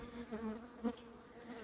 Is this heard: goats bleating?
no